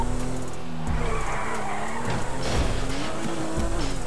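A motorcycle in the GTA RP video game drives on continuously, its engine droning under sustained tire squeal and skidding, loud and steady throughout, with no talk.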